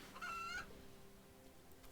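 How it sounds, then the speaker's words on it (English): A single short chicken cluck from the RuneScape video game, faint and brief, followed by quiet background. "We'll kill a couple more chickens until we get about 15 feathers."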